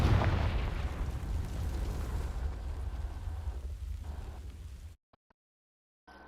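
A Confringo fire spell explodes against dry vines in the Hogwarts Legacy video game, a loud booming roar that rumbles steadily for about five seconds before cutting to near silence.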